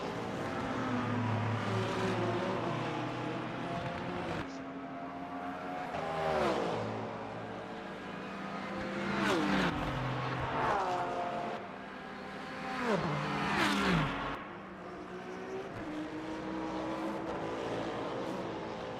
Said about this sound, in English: The Lamborghini of Gabriele Bassi flies on through and takes third place in the GT3 category here at Monza.